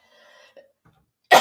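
A person coughs once, short and loud, at the close, after a stretch of quiet with some faint, muffled murmuring.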